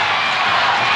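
A wrestling crowd at a convention center in 1986 roars in a brief, loud, sustained burst of cheering and noise.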